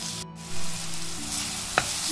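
Chopped onions dropped into hot oil with a little sugar for Chinese-style frying: a continuous close sizzle with a single sharp click near the end, no voices.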